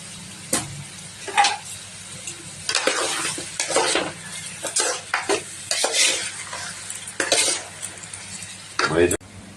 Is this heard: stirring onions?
yes